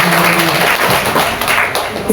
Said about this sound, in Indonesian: Tepuk tangan buat Mama sekalian.